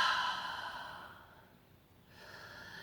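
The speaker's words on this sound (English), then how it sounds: "Exhale through the mouth." One long, breathy exhalation through the mouth, close and soft, fading gradually and then followed by a faint start of the next breath.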